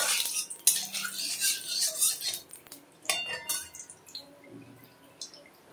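Metal spoon scraping and clinking in a pan while black cumin seeds are stirred into hot oil as a tempering for steamed hilsa fish with mustard, with irregular close taps, faint sizzling and drips, and no voices.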